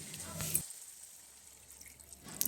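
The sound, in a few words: water poured into pan of potatoes being cooked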